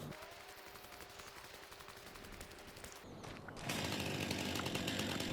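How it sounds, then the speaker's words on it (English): A chainsaw cuts deadwood in Farming Simulator 25, its engine buzzing faintly at first and then rising into a louder, harsher rasp as the blade bites into the wood. "I'll just run over and get the rest done with my chainsaw and collect on the contract"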